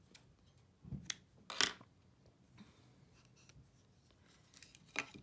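Scissors snip yarn on a bracelet loom, a few quiet, sharp close-up clicks spaced irregularly over near-silence, with no speech.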